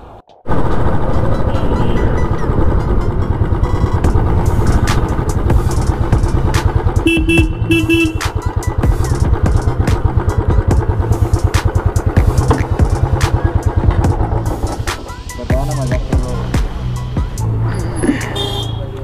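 A Stealth Black Royal Enfield Classic 350 BS6 thumps along loud and close on a ride near Kanha Tiger Reserve, its throbbing exhaust pulse steady under rushing wind, with a horn toot partway through.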